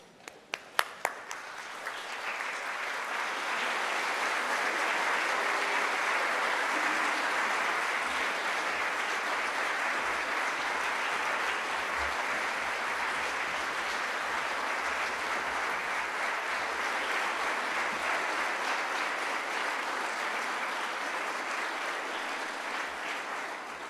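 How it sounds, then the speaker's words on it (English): A graduation ceremony audience at the University of Liverpool stands and applauds its senior officers, a few separate claps at first swelling into a loud, dense, sustained round of applause that holds steady to the end. "can I please ask you all to stand and give a round of applause for your senior officers of the University of Liverpool"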